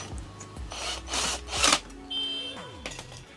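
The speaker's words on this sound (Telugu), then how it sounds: "దీనిది స్క్రూ కూడా బిగించేద్దాం" A screwdriver tightens a screw on a home theatre amplifier circuit board, giving several close, scraping rubs in short bursts over a faint electrical hum.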